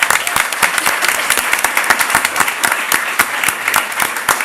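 Loud, full applause from an education policy debate audience for a research assistant, many hands clapping steadily and evenly throughout without a break.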